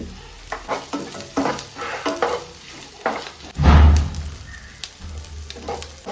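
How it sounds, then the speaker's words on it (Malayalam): Crushed beef dropped into coconut oil in a pan, with a sizzle of frying and stirring scrapes throughout and one louder burst of hissing midway, close and fairly loud. "ക്രഷ് ചെയ്തെടുത്ത ബീഫും കൂടെ അതിനകത്തോട്ട് അങ്ങോട്ട് ഇട്ടു വെളിച്ചെണ്ണ ഒഴിച്ചു"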